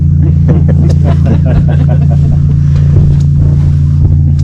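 A loud, steady airboat engine drone with a deep roar and wind buffeting as the boat speeds across a Florida lake, with a voice faintly underneath.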